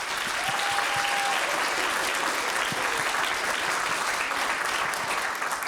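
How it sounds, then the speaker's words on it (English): Conference audience applauds in sustained, even clapping that fills the room from start to finish, a dense wash of many hands with no voices standing out. "join me in giving them a very well-deserved round of applause"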